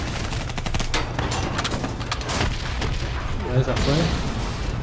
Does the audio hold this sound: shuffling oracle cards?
no